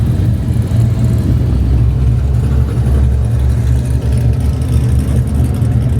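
Loud, deep rumble of a race car engine rolling out at a drag strip, a continuous throaty low drone with slight fluctuations, close and steady with no talking.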